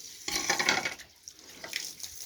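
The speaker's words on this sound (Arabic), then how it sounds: "هات يا محمود نسكت ميه هنا" Water splashes onto meat while a carcass is being skinned and butchered, a bursty rushing pour that comes and goes in short splashes, moderately loud with no talk over it.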